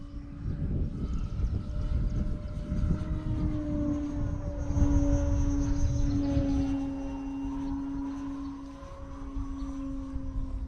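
An electric radio-controlled Decathlon 40 model airplane flies with its motor pushed harder than usual, a steady whining drone whose pitch shifts as it passes overhead, over wind buffeting.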